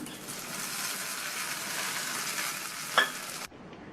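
Mustard seeds, curry leaves and dried red chilies sizzle in hot oil as a tempering for coconut chutney: a steady, bright frying hiss, a small metallic clink, then an abrupt stop as the pan comes off.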